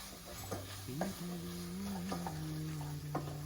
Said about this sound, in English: Now I will add my tomato paste also into it. I'm going to mix everything nicely